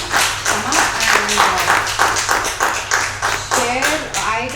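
A small audience gives a round of applause, clapping in a distinct pulsing rhythm of loud, near hand claps, with voices talking faintly underneath.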